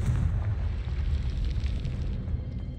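A Confringo fire spell blast in the Hogwarts Legacy video game, a loud sustained rumbling explosion with crackling bursts that rolls on heavily for about three seconds, with no talking.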